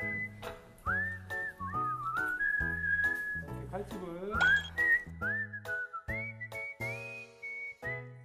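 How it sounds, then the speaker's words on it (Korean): A person whistles a wandering tune, sliding between notes, over rhythmic music and occasional clinks nearby. "어디서 휘파람 소리가? 제가 부는 거예요."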